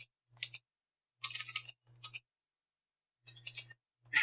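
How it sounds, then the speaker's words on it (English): Keyboard typing comes in short, separate bursts of crisp clicks with silent gaps between them, quiet and close. "Yep. Typing."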